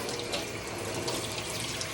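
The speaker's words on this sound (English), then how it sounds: "running this under water real quickly here." Tap water runs steadily from a kitchen faucet over a honey jar, a continuous close hiss and splash with no pauses and no talking.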